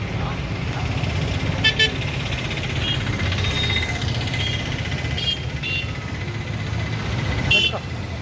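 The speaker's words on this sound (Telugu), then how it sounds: "ఆటో సౌండ్ వినపడలా మీకు" Auto rickshaw engine rumbles steadily up close at a street gathering for a Kargil Vijay Diwas event in Kavali, with short horn toots breaking through and voices in the background.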